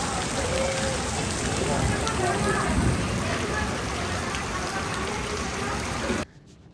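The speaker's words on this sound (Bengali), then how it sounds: "বৃষ্টির শব্দ না আমি অনেক বেশি উপভোগ করি" Heavy rain pours steadily at a food court in Uttara, a dense, even wash of drops on surfaces that runs on without pause and then cuts off abruptly at the end.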